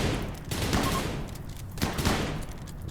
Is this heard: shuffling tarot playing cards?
no